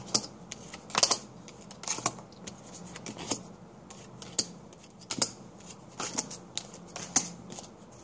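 Oracle cards are shuffled by hand in a series of crisp riffling and slapping bursts, close and fairly quiet, with irregular sharp clicks spread across the stretch and no speech.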